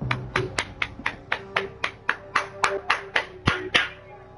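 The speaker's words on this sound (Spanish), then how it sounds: "Un aplauso para él." One person claps hands in a steady rhythm, about fifteen crisp, close claps spaced evenly, with a low hum underneath and no talking.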